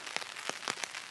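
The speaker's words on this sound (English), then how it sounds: "We are having heavy rain" Heavy rain pours down in a dense, steady hiss, with a few louder splashes standing out from the constant downpour.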